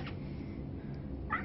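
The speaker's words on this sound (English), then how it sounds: "Just a solid kitty." A cat meows briefly and faintly at the start and again near the end, over a low steady background hum.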